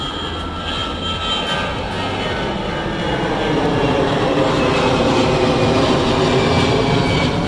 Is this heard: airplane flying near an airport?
yes